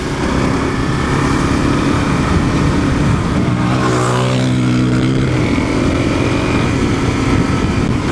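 Dual sport motorcycle engine running hard on a canyon ride, a loud steady drone with a rising and falling pitch sweep midway as another fast vehicle passes by close.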